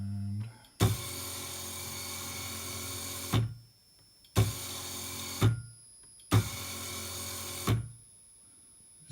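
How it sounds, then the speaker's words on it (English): A servo motor drives a harmonic drive fourth axis at about 2500 RPM, whining in three separate spin-ups, each a few seconds long. The bursts are loud, close and steady, with short silences between them. "the servo turns 2500 RPM"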